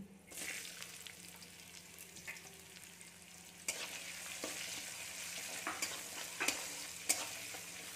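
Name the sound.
chopped onion frying in a pan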